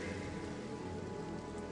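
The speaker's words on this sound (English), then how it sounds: "Get some rain going." Rain spell cast in the PC game Divinity: Original Sin Enhanced Edition, a steady hiss of falling rain pattering on surfaces, continuous and fairly loud throughout with no talking.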